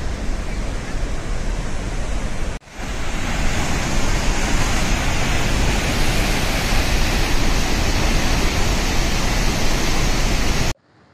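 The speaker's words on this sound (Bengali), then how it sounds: "আর এখন আমরা এখানে দাঁড়িয়েছি ফেরি ওয়াটারফলসের এখানে।" Ferry Waterfalls near a dam on the route to Gangotri, with water pouring over it in a steady, loud, broadband rush close by. The sound cuts out for a moment near the start and again at the end.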